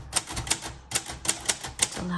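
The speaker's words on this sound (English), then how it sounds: "We're gonna test out all the keys, but I'm gonna type a couple sentences." Keys strike on a 1956 Royal Quiet Deluxe manual typewriter, a close series of sharp mechanical clacks in quick irregular bursts with a brief pause midway.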